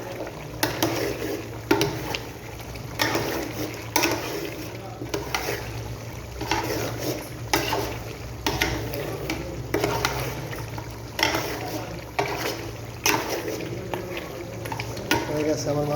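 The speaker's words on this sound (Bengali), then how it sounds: "মাংসটা হয়ে গেছে। আরেকবার নাড়া দিব" Beef kala bhuna being stirred in a pan, repeated scraping strokes at an even rhythm with a background sizzle, close and fairly loud under someone speaking.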